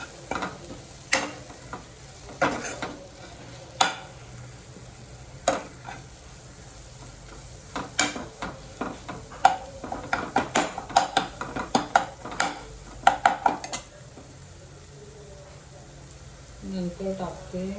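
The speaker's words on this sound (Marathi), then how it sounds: "हे सगळं परतून घ्यायचं आहे." Marathi-style masala mixture with black masala being stirred and sautéed in a pan for a Malwani prawn dish, with repeated spoon scrapes and clinks over a low sizzle, building to a busy flurry of stirring.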